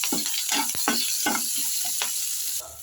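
Onions, green chilies and curry leaves frying in hot oil for a cashew mushroom curry, a loud continuous sizzle broken by several quick spatula stirs and scrapes.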